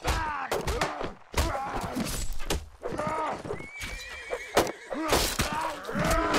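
In a video game, horses neigh and whinny repeatedly while hooves clip-clop and thud nearby, with a player's voice talking over the action.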